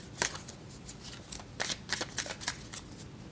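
Tarot cards being shuffled in repeated quick riffling bursts, close and fairly soft, with light papery slaps in an irregular rhythm and no talking.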